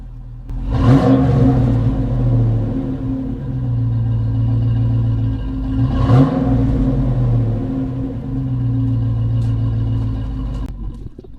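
A truck engine fitted with a new aftermarket exhaust kit revs twice, each rise climbing from a steady rumbling idle and settling back, loud and close with a droning exhaust note throughout.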